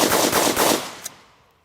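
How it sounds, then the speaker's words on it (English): A rapid burst of gunfire from a POF Puritan piston AR15 rifle outdoors, several loud shots fired in quick succession, then a decaying echo. "we picked it up, fired another mag or two through it"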